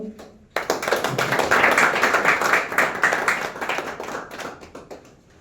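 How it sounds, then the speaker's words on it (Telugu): Audience applause at a journalists' federation gathering, a crowd clapping steadily and fairly close for several seconds after a short quiet start, with dense overlapping hand claps that swell and then taper off. "పేర్లు చదివిన తర్వాత ఒక్కొక్క పేరుకి మీరు చప్పట్లు కొట్టి"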